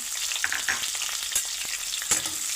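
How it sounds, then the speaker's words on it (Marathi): Whole spices and onion frying in hot oil for a Hyderabadi chicken dalcha, a steady close sizzle with a few sharp crackles and spatters, no talking. "तेल गरम करून घेऊ खडे मसाले घालू एक कांदा घालायचा"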